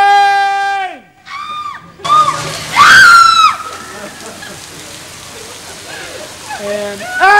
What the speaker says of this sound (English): Nice and wet. Here we go. Rain!